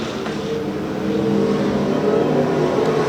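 Race cars roar around Rose Bowl Speedway after a green-flag start, a dense, steady engine drone from the pack that swells louder after the first second and stays loud throughout.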